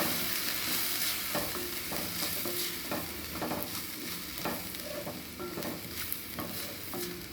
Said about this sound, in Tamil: கரம் மசாலா தூள், மிளகாய் தூள், காஷ்மீரி சில்லி பவுடர் சேர்த்து வதக்கிக்கலாம்.